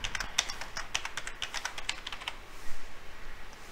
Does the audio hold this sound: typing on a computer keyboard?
yes